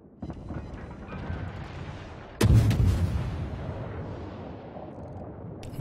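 A naval gun fires with a single heavy boom midway through a World of Warships battle, its rumble decaying over a low ambient engine and sea drone, preceded by fainter distant thuds.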